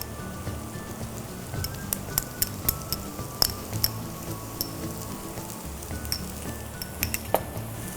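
Onion frying in a pan with turmeric, salt and ginger-garlic paste, crackling and sizzling steadily with sharp pops and spatters, close and fairly loud, without speech.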